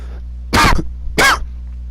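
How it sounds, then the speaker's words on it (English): Two sharp, loud coughs close to the microphone, separated by a brief pause, over a low steady hum. "Big cough."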